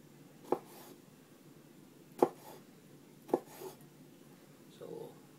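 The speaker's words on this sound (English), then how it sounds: "Diced tomatoes" A sharp kitchen knife dices tomatoes on a cutting board, giving three distinct, well-spaced chops that sound moderately close, each followed by faint scraping, with quiet handling noise in between.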